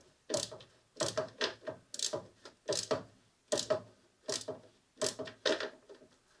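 A ratchet tightens a nut on the heater assembly of a 1966 Mustang, clicking in close, sharp bursts of several quick clicks, repeated in an even rhythm with brief pauses between strokes.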